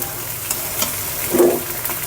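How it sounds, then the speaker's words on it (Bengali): Vegetable curry with spices and green chillies being stir-fried in a pan: a steady close sizzle broken by scraping stirs, with one louder scrape and hiss midway. "তরকারি মশলা কষিয়ে নিয়ে তরকারি দিয়ে দিছি সুন্দর করে কষানো হচ্ছে এখন"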